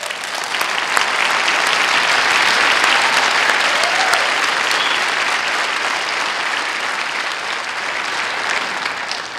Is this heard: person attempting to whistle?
no